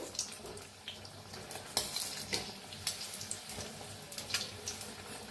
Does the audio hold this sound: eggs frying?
yes